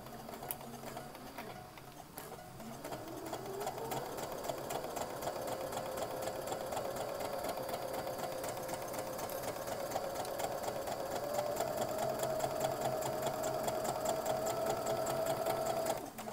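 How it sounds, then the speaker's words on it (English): A sewing machine stitches a 5/8-inch seam in fabric for a McCall's 8241 garment. After a brief start it speeds up into a steady, close mechanical whir and needle clatter that keeps running. "we are going to go ahead and stitch at 5/8 of an inch"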